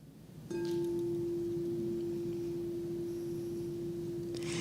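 A green singing bowl representing the heart chakra is struck once and rings with a steady, sustained pure tone that hums on evenly, with faint shimmer near the end.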